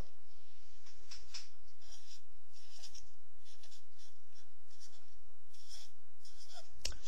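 A pen scratches across paper as a chemical equation is written out by hand, with soft intermittent strokes and pauses over a quiet room hum.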